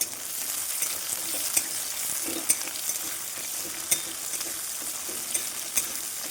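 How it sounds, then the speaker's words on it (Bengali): Chopped onions sizzle steadily in hot oil with cumin seeds in a pan, with scattered scraping clicks as they are stirred; no talking. "পেঁয়াজ কুচি দিয়ে দেবো পেঁয়াজটা ভালোভাবে লাল লাল করে ভেজে নেবো"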